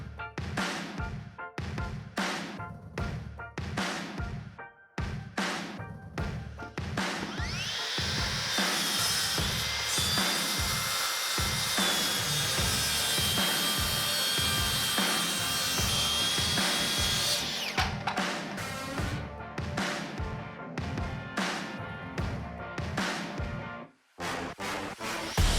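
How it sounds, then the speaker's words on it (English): Track saw cutting in a Makita versus Festool comparison: short bursts of the motor starting and stopping, then a loud, sustained cut of about ten seconds that winds down, followed by more brief tool bursts. "So let's start making some cuts."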